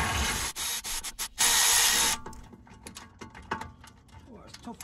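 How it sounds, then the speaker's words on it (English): A ratchet wrench works loose a tight front brake caliper bolt on a BMW 118d. Bursts of ratcheting clicks are broken by pauses and scrapes, close and fairly loud. "They're a little bit too much for the Milwaukee ratchet."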